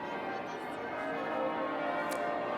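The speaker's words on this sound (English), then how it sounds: "I like church bells, but this has been going on at St. Paul's for at least a half an hour" Church bells ring continuously at St. Paul's in London, a dense, sustained peal heard from a distance under a broad wash of street ambience.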